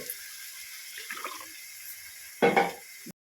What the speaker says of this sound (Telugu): ఇగో గిలాస నీళ్ళు పోసుకోవాలి